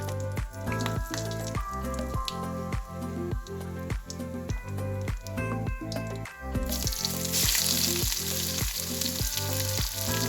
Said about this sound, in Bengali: ফোড়নে দিলাম গোটা জিরে আর গোটা গরম মশলা থেতো করা